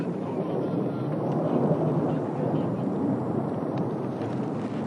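A pair of UAE Mirage 2000 jets flies past in formation during a military exercise, a loud, broad, steady roar that holds at full strength for several seconds.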